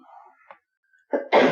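A few faint muffled sounds, then a sudden sharp cough or throat-clearing burst, loud and close, ending the clip.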